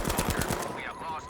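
A few quick gunshots from a newly added weapon in Battlefield V, close and moderately loud, fading into the game's ambient noise.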